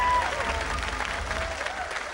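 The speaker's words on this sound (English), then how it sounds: "Give him a round of applause, ladies and gentlemen." A studio audience at the Robot Wars TV show breaks into loud applause, a thick, even wash of many clapping hands that holds for a couple of seconds.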